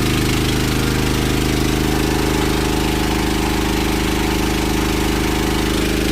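A Honda petrol generator rated 7.5 kilowatts, made in Japan, runs loud and close beside a pond, a constant droning engine roar with a steady low thrum and no change throughout.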